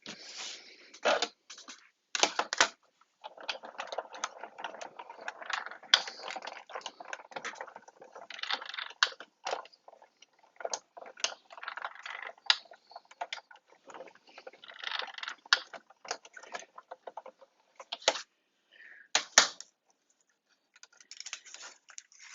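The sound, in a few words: die cutting machine cutting a card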